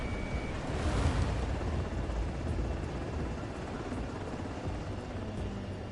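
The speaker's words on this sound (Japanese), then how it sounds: "ヘリコプターさんはさ、" A helicopter in the Ace Combat video game whirs with a steady, rushing rotor wash, loudest near the start and then holding at an even level.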